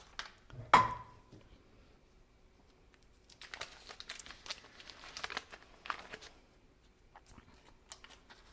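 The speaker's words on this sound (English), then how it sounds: "Just unwrap your ghee, unwrap your butter, not your ghee." Paper wrapper being peeled off a block of butter, a close, soft crinkling and rustling in irregular bursts after a sharp handling knock, fairly quiet overall.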